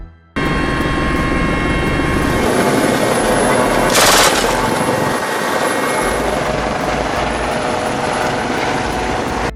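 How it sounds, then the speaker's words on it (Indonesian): A French military helicopter fires its machine gun at a pirate boat from the air, a loud continuous rotor drone with dense rapid gunfire bursts layered over it, peaking in a sharp blast near the middle. "militer Prancis sampai menurunkan sebuah helikopter, kemudian menembaki kapal bajak laut dari udara"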